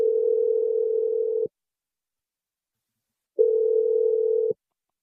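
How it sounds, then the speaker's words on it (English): Telephone dial tone on an outgoing call: two steady single-pitch tones, the first about one and a half seconds and the second shorter, separated by a long silence, loud and clean with no voices. "Nicole, I'm dialing Nicole's number, and we will step away"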